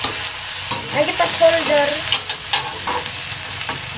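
Duck adobo with pineapple chunks sizzles in a frying pan while a utensil stirs and scrapes through it in uneven strokes, with a brief spoken phrase partway through.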